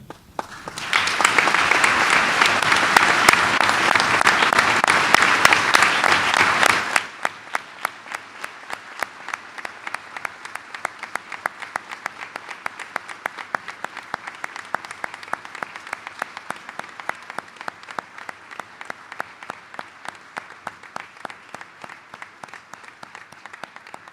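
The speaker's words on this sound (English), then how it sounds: "we'll give them a big round of applause for being with us today" An audience at a Veterans Day ceremony bursts into loud, full applause that drops after about seven seconds into thinner, scattered clapping, which carries on for the rest of the clip.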